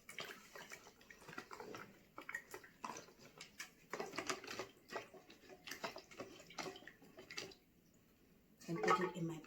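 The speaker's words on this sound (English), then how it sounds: "I'm just going to rinse it." Broken coconut pieces are rinsed under water, giving quiet, intermittent splashing and trickling with short pauses. A louder rush of water comes near the end.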